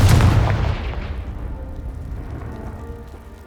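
A blasting spell explodes in the Hogwarts Legacy video game, opening with a loud, deep boom that rumbles and decays slowly over a few seconds, heard alone.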